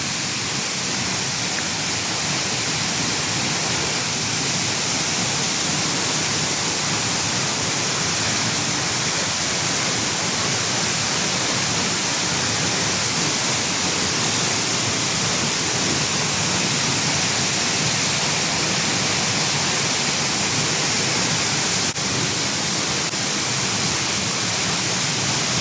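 Isarog Falls in Camarines Sur, Bicol, roars as a constant, dense rush of falling water, loud and unbroken throughout.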